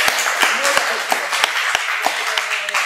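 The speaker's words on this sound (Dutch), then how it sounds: "Applaus!" An audience at a Q&A event claps in scattered, uneven bursts, with sharp individual hand claps mixed with ongoing talk in the room.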